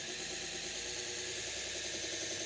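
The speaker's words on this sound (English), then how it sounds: "so we're going to sharpen at 2000 RPM" A knife sharpening machine runs steadily at 2000 RPM, a constant close hum and hiss without pauses or talk.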